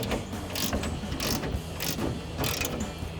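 A deep-socket ratchet tightens rear spoiler bolts on a 2011-2023 Dodge Charger R/T. It gives close, rhythmic bursts of ratcheting clicks, repeated several times with short gaps between them.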